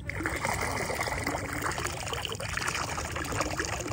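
Water splashes and trickles steadily as freshly cut fish are washed in salted water in a basin, a close, continuous pouring sound with no talk.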